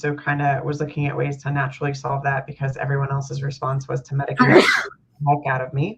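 A single sharp sneeze bursts out near the end, loud and close, right after someone speaks steadily at close range.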